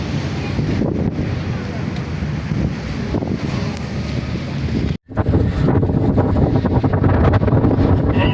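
Strong wind buffets the microphone on a moving boat in Hamburg, a constant roaring rush with a brief dropout before the gusts return just as loud.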